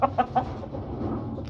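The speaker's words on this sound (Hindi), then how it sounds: "ये मेरा काफी प्यारा मुर्गा ये वाला" A pet rooster kept at home gives three short, close clucks in quick succession at the start, followed by a low background murmur.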